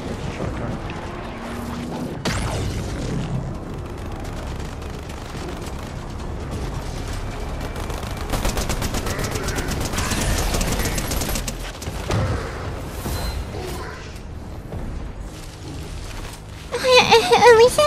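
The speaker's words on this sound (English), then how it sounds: "That's a shotgun." Shotgun fire in a Fortnite Doctor Doom boss fight event, with loud repeated blasts and mechanical clatter mixed into dense game effects and music, and a burst of noise near the end.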